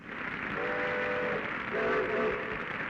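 A steam train whistle sounding in two sustained blasts over a steady rumble of train noise, from an early 1930s film event, with no talking.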